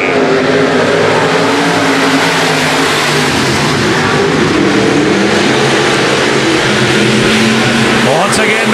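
Stock cars roar around a dirt speedway during a heat race at Nobles County Speedway, a dense, continuous wash of engine noise that rises and falls as cars pass. An announcer talks over the racing.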